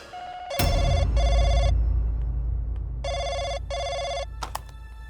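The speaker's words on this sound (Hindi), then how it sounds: "फोन आया मोनिका को" A telephone bell rings in two pairs of loud electronic trills with a pause between them, over a low indoor background hum, followed by a couple of faint clicks.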